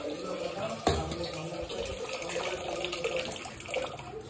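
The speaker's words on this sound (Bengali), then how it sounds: "আর এই যে এখানে ভাতের জলটা ভরছে।" Water running into a pot for cooking rice, a steady rushing tap stream with a sharp clank early on, heard at moderate level with faint household sounds.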